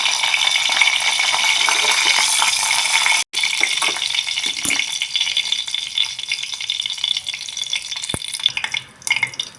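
Soaked dried tadka chillies dropped into hot oil in a pan, giving a steady, bright crackling sizzle that stays loud and close, then thins and settles toward the end with no talking.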